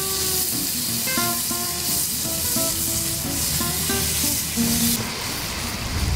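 Kebabs and sauce sizzle loudly in the non-stick pan of a Cadac Carri Chef 2 gas grill outdoors, a steady close frying hiss with faint clinking, and no talk.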